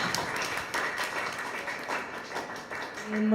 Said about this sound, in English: Ladies and gentlemen, please give them a warm round of applause.